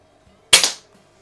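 One sharp, close air pistol shot from a Benjamin 132 or FB Record Jumbo, a crisp crack with a quick echoing tail that dies away within a fraction of a second.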